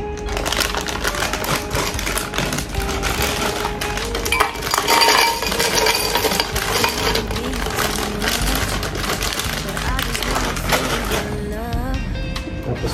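Ice cubes being dropped into a blender for an Oreo and almond drink, a dense run of clinks and hard rattles that continues close and loud throughout.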